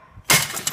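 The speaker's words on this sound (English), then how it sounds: "Smashing bottles is fun." A glass bottle shatters with a sudden loud crash, followed by a short spray of tinkling, splintering shards.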